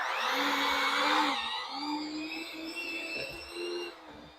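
A small electric mixer whirs steadily, its motor pitch dropping and wavering as it works through thick butter for bread dough, close by with no talking.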